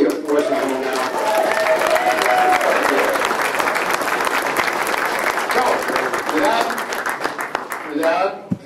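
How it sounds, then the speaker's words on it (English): An audience at a labor awards reception breaks into sustained, dense applause that stays loud and even throughout before trailing off at the end. "So let's give them a tremendous applause."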